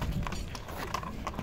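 A trotter-breed horse being led at a walk, soft irregular hoof clip-clops on the ground at moderate distance, faint against background noise.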